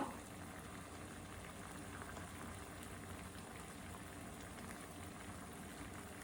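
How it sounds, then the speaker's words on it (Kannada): Water boils steadily in a pot with touch-me-not plant for a home remedy, giving a continuous close bubbling hiss with no voices. "ಅದನ್ನು ಈಗ ಇದು ಕುದೀತಾ ಇದೆ, ಚೆನ್ನಾಗಿ ಕುದಿಲಿ."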